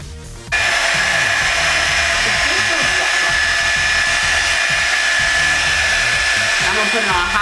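A Revlon One Step hair dryer switches on and runs on high with a loud, steady whooshing roar and a constant motor whine, close up and unbroken throughout.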